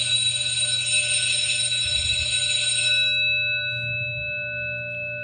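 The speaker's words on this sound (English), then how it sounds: "At one of the worst timings, a bell always interrupts when it goes off." A loud school bell rings continuously with a steady metallic clang, then cuts off after about three seconds, leaving a lingering tonal ring and low background hum.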